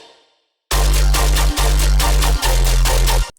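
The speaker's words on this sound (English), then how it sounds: "The color group isolated sounds like this." Isolated color bass synth group, thick bright chord stabs over a deep low end in a rhythmic pattern with short dropouts, entering loud after a faint tail of silence.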